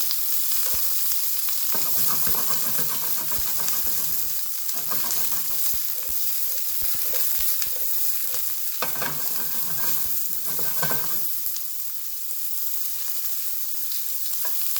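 Vegetables including carrots fry in oil in a pan with a steady loud sizzle, broken by repeated bursts of stirring and scraping, close up and without talk.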